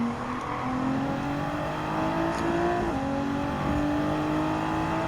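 A car accelerating hard in the racing game Gran Turismo 7 while chasing an R34 Skyline, its engine note droning loudly and climbing steadily in pitch, with a brief dip as it shifts, continuous throughout.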